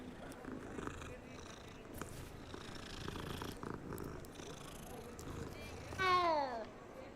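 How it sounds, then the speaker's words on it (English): A cat purrs while being petted in Hogwarts Legacy, a low, faint rumbling purr running steadily under game audio, ending with a short rising chime-like flourish. "Stop to pet the cat."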